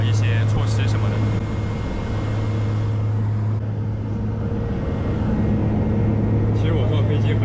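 Inside the cabin of a BAe Jetstream 32 propeller plane, a loud, steady low engine drone hums throughout, with a constant whooshing roar layered over it.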